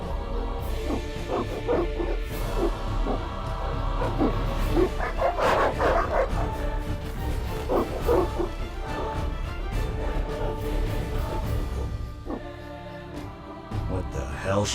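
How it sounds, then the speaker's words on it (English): Evil dogs bark and yip in a medieval town at night in The Witcher video game, with several short bursts over a dense game soundtrack and ambience, and voices are heard around them. "They're evil dogs. Run!"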